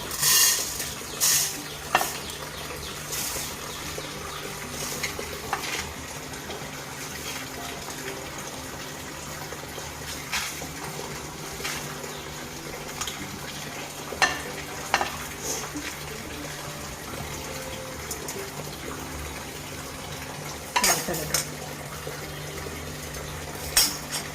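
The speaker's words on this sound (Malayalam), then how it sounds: "മുതിര നല്ലോണം മൂത്ത് പൊട്ടി തുടങ്ങി ഒച്ച കേൾക്കുന്നുണ്ട്." Dry horse gram and dried red chillies rattle and crackle in a hot pan as they are stirred, with scattered sharp pops and scraping over a steady sizzle.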